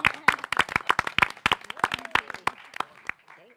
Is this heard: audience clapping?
yes